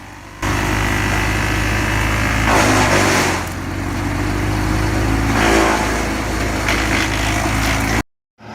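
A Vermeer BC700XL wood chipper engine runs loud and close, a steady droning roar that swells and surges twice, then cuts off abruptly at the end.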